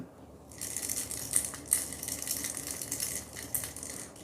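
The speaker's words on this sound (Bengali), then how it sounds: "আর এতে যে রেটেল সাউন্ড আছে" A Lucana Komodo 125 fishing lure, a bass lure, being shaken by hand, its internal rattle giving a steady run of close, bright clicking with a few sharper clatters and no talk.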